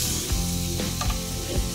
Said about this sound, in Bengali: আমি এবার এটাকে ভাজা ভাজা করবো